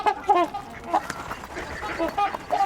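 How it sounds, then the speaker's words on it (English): Mallard ducks quacking among a flock of trumpeter swans at a spot where birds are often fed by people, several short nasal calls repeating at close range with a person talking over them. "A few mallards here too."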